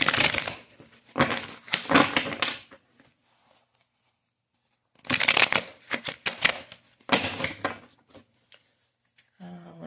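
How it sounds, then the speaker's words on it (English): Tarot cards being shuffled by hand, close and crisp, in several riffling bursts separated by short pauses, with no talk over them. "Let's shuffle one more time."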